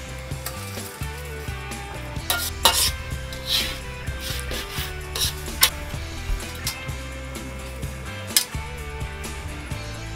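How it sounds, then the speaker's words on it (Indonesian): Spice paste mixed with grated coconut frying and being stirred for durian seed rendang, a continuous scraping, rubbing texture of spatula against the pan with dense sizzling and frequent clatter throughout. "beragam bumbu rempah yang telah dicampur dengan kelapa parut kemudian digoreng sampai bumbu semua kering merata"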